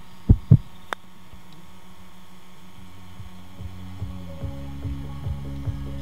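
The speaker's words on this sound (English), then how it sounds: "Cue the Tiger Woods heartbeat from EA Sports." A slow, steady heartbeat sound effect from an EA Sports Tiger Woods golf game, with repeated low thumps building into a regular throbbing pulse over a constant hum, after a couple of sharp knocks at the start.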